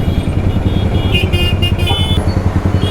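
A V3 motorcycle with a modified exhaust, recorded close: a loud, throbbing low engine burble with rapid rhythmic pulses and brief sharp higher crackles in the middle, no talk.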